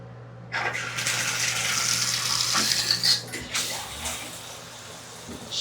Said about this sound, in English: So let's check out this shower head here.